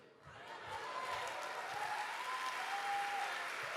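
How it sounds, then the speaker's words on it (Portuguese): A church congregation claps in a continuous rising wash of applause, building in the first half second and then holding steady, with faint voices calling out over it. "Aplauda mais forte"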